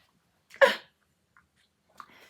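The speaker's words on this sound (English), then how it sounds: "And I sneezed a great sneeze." One sharp, explosive sneeze bursts out close and loud, followed by a quieter trailing breathy sound a moment later, with near silence around them.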